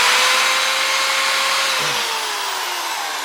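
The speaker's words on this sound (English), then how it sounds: "Maybe those things are too hard to cut out with a drill." A drill whines steadily at high speed while cutting into metal on a sawmill carriage during disassembly, the pitch sagging slightly as the bit bogs down, close and continuous.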